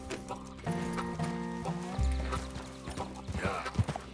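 A horse in the video game Red Dead Redemption 2 clip-clops along with steady hoofbeats and lets out a whinny, heard fairly close against a quiet game soundscape.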